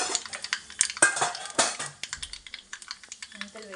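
Fenugreek seeds are tossed into a pan, giving crisp clustered clicks and scattering ticks with light metallic clatter, followed by softer tapping as they settle and start sizzling, close and fairly loud.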